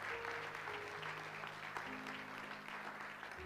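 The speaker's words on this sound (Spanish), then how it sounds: "dele un aplauso a aquel que vive y reina para siempre" Church congregation applause during a Spanish-language sermon, a dense, steady patter of many hands filling the space with sustained organ-like keyboard tones underneath, fairly quiet and continuous throughout.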